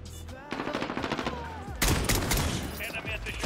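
Rapid automatic gunfire rattles in a Call of Duty Modern Warfare 2022 multiplayer match, a burst of close shots followed by louder, denser firing and impacts, with a voice talking over part of it.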